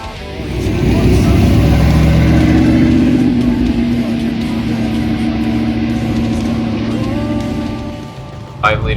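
A 5-liter 1994–95 Ford Mustang idles and rumbles close by at a car club track gathering, a loud steady low drone that eases slightly before a brief sharper sound at the end.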